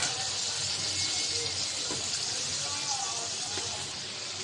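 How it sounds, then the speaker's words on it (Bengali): Water poured into a pot of chicken and potatoes, a steady gushing pour that runs continuously at moderate level. "অল্প পরিমাণে একটু পানি দিয়ে দিই"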